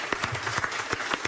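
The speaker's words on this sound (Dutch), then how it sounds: "Applaus." A gathering at a Frisian sports awards evening held at a sports club applauds briefly, a loose run of distinct, unevenly spaced claps from several hands, fairly close and moderately loud, over a faint low rumble.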